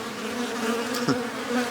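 Honeybees hum steadily in front of a backyard hive, a continuous close buzz with a few individual bees passing nearer for a moment.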